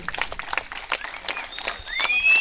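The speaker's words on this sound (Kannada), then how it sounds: "ಒಮ್ಮೆ ಜೋರಾದ ಕೈ ಚಪ್ಪಾಳೆಯನ್ನ ಜೀತಿಗೆ ನೀಡಿ" An audience claps at a closing trophy award ceremony for the Manikanta Trophy 2025, with brief scattered applause rising slightly toward the end and a faint whistle over it.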